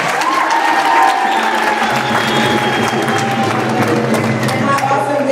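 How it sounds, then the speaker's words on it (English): A school assembly audience of middle school students applauds and cheers steadily, with a dense crowd of claps and some shouting throughout. "let's give them another round of applause."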